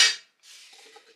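Dishes, pots and cutlery being washed by hand at a kitchen sink, a short clatter followed by softer rattling and clinking of utensils in water.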